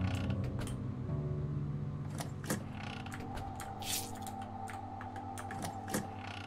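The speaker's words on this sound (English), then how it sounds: "Yes, the door's open, finally." A door creaks slowly open in the video game The Witch's House, a drawn-out wooden groan with scattered clicks and ticks over a low steady hum.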